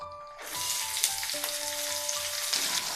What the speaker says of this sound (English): At this time we'll add the roughly chopped onions